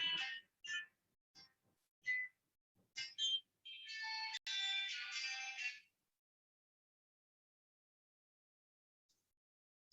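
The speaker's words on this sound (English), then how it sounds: "my phone was on" A mobile phone ringtone goes off indoors, several short electronic chirps followed by a longer sustained ring lasting a couple of seconds, then it cuts to silence.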